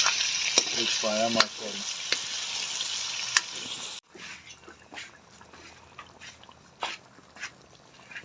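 Kadai gosht, a meat curry, sizzles loudly in a wok for about four seconds with stirring scrapes and a dog barking, then fades to a softer frying hiss as a voice speaks briefly.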